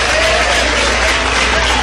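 Church congregation clapping in praise during a service, a dense, loud wash of applause that fills the whole short stretch with steady, overlapping claps.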